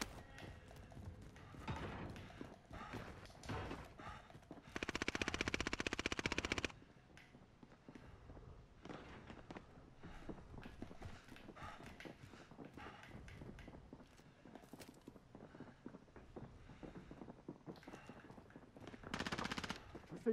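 Video game gunfire during a police shootout, with bursts of rapid automatic fire and scattered single shots over a continuous game soundscape, one loud sustained burst standing out near the middle.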